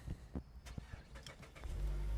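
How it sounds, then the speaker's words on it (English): A car engine starting: scattered clicks and thumps give way to a low, building engine rumble that swells and holds near the end, close and moderately loud, with no talking. "And we will start the car"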